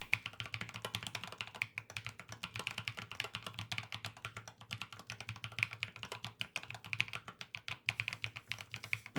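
Rapid, continuous typing on a keyboard fitted with resin keycaps, a dense patter of light clacky keystrokes heard up close and fairly quiet, with a faint low hum beneath.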